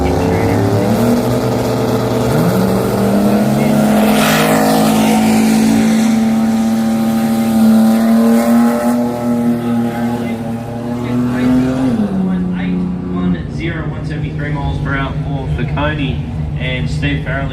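Drag racing car making a loud, sustained engine roar down the track at a Brisbane jamboree, pitch holding steady then dropping as the driver lifts off the throttle, close and continuous.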